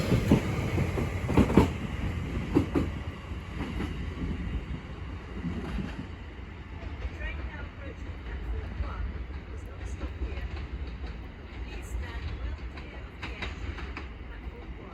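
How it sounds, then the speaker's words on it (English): A London Overground train from Enfield Town pulls out of Bethnal Green, a rumbling roll with wheel clatter that is loudest at first and then fades into a softer, steady rush as it moves away. "Now departing is the 1123 London Overground service from Enfield Town to London Liverpool Street"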